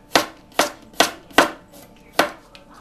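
A knife chops vegetables on a cutting board in five crisp, evenly spaced thuds, close and loud, with no talking over them.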